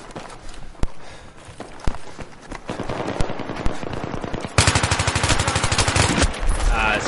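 Gunfire crackles in Battlefield 3 combat, with scattered single shots giving way to dense automatic bursts that grow louder and more sustained toward the end.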